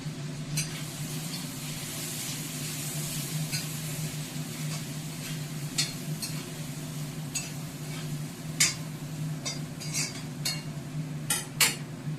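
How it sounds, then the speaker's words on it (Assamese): Meat sizzles in a pan under a steady low frying hiss, with scattered clinks and scrapes of a spoon stirring against the metal at irregular intervals, no talking. "মাংসখিনি অকণমান ৰঙচুৱাকৈ ভাজি ল'ম"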